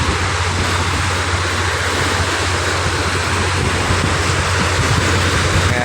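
Sea water surges in steadily at high tide on Manila Bay, a continuous broadband wash of surf with a low steady rumble and no talk over it.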